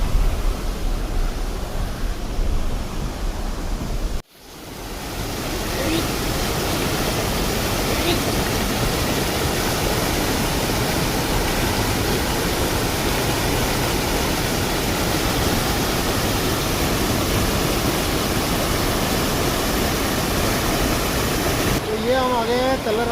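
Floodwater of a swollen river rushing beneath the Talla Ramgarh bridge in Uttarakhand during heavy rain, a loud, steady broadband roar that continues throughout with a brief dip early on; a voice talks faintly over it.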